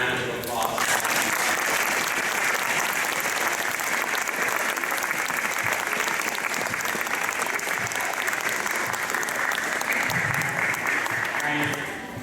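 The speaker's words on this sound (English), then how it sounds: "Get you to give not only the beginners and the advanced a round of applause." Sustained audience applause at a school band's year-end concert, a dense steady wash of many hands clapping that holds evenly for the whole stretch before tapering at the end.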